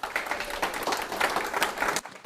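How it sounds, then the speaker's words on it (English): Live studio audience clapping steadily for about two seconds, a dense patter of many hands at moderate loudness that cuts off abruptly near the end. "Give yourself a round of applause."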